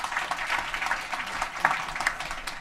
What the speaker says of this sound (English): Oh, applause. All right, let's applause.